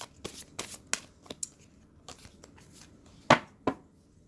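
Tarot cards being shuffled by hand at close range, a run of crisp riffling bursts and taps in irregular rhythm, with a sharper louder flurry near the end, no talking.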